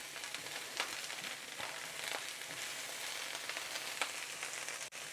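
Cabbage stir-frying in a hot pan for a wilted slaw, a steady close sizzle and crackle with occasional scrapes from stirring, continuous throughout.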